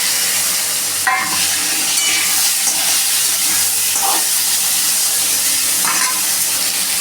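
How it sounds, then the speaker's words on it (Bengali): Potatoes and pointed gourd drop into hot oil with panch phoron and dried red chilli, a loud continuous hiss and sizzle with a few soft stirring knocks, no voices. "এবার আমরা দিয়ে দিচ্ছি আলু পটলটা।"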